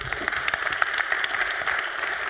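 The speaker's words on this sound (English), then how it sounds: "Please give our speaker, Gal, a warm round of applause." A hacker conference audience at the Congress gives a speaker a steady round of applause, dense and sustained throughout with no speech.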